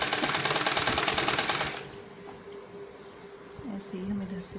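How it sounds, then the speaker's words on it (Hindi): A sewing machine stitches fabric for a ladies' sherwani-style suit, running loud and close in a steady rapid rhythm for about two seconds before stopping, leaving quiet room tone with faint chirps. "और फिर इस पर सिलाई लगाएंगे।"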